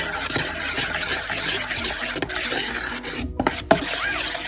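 A ladle stirs cooking juice into cream for a veal blanquette, a close, continuous scraping and swirling with soft liquid sloshes and a couple of clinks near the end.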